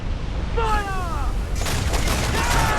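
Ship cannons fire a rolling volley of booming shots in Assassin's Creed IV: Black Flag, loud and dense, with a sweeping whistle before the barrage and shouted crew voices over the din.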